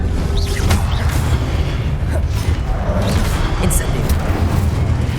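A Confringo explosive spell going off in Hogwarts Legacy, with rumbling booms and crackling game effects layered over continuous low-end noise, and speech-like voices from the game mixed in.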